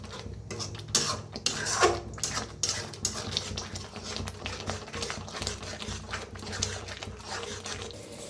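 Masala spiced with red chili powder is stirred and roasted in a pan for a brinjal dish, with a spoon scraping and clinking against the metal in irregular knocks over a soft frying hiss, heard close.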